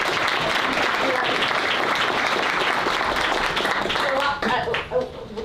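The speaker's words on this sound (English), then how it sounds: "please give them a big round of applause" Audience applause at a community winter preparedness event, sustained dense clapping from a sizable crowd that thins near the end as a voice starts to speak.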